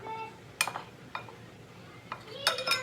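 Meat pieces tossed with cornstarch in a bowl, heard as a few sharp clinks and taps of utensil against the bowl scattered among quiet rustling, faint and close.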